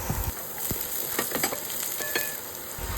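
Garlic, ginger and onion sautéing in hot oil for pork pata balbacua, a steady close sizzle broken by scraping stirs, with a sharper clatter at the very end.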